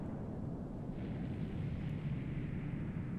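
Explosion in the Final Fantasy 7 video game, a deep sustained rumbling roar with a hissing wash above it, steady and heavy for a few seconds.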